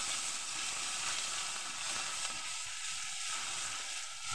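Garlic paste sizzles in hot oil in a pan while aloo dum is being cooked, a steady, fairly soft hissing crackle that continues throughout without any speech.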